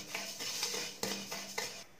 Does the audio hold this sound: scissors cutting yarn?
no